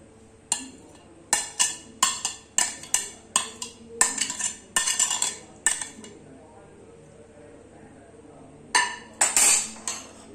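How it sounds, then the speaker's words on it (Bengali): Metal spoon or ladle clinks repeatedly against a pot while reserved fish gravy is spooned over layered hilsa biryani, a close series of sharp taps in bursts with a quiet pause before a final cluster. "এবার বাদ বাকি যে ঝোলটা আমি রেখে দিয়েছিলাম সেটা উপরের থেকে সাজিয়ে দেবো এরকম করে"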